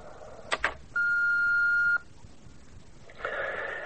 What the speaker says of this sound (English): please speak after the beep.